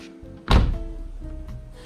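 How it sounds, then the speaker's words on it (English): A Mercedes R107 450SL car door swings shut with a single solid, heavy thunk, followed by a brief low resonance in a quiet setting. "I love the way door closes."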